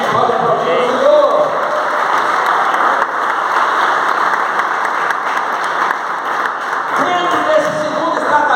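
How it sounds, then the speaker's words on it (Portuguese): A church congregation applauds in sustained, dense clapping that fills the clip at close range, easing slightly before swelling again near the end, with voices mixed in under it. "Pode aplaudir o Senhor."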